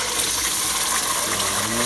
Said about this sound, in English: I'm going to take our can of crushed tomatoes.